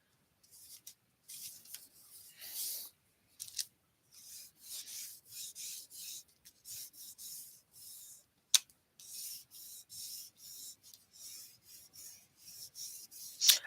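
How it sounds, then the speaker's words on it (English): Soft intermittent rubbing strokes as wet glue is worked into a paper craft Christmas card by hand, faint dry scuffing passes coming in short bursts with brief silences between, no talking. "if you decide to use wet glue on any of your projects, if you rub it in a lot, it won't bow as much"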